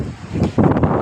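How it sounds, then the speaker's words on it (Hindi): Strong wind gusting across an exposed hillside at Naran in the Kaghan valley, a broad steady rush that swells louder in the second half, with no voices. "तेज़ हवा भी चल रही है"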